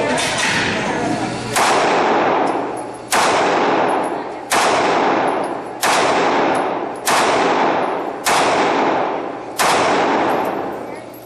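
Seven loud, evenly spaced pistol shots from an M&P Shield 9 at a shooting range, each a sharp crack with a long ringing decay, about one and a half seconds apart.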